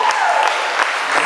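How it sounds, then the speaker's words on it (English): A comedy club crowd breaks into brief applause, a quick burst of clapping with a voice carrying faintly over it. "Clap it up."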